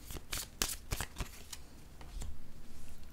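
Tarot cards are shuffled and drawn in a series of quick, crisp riffles and snaps, close and fairly quiet, ending in a denser run of soft flutters.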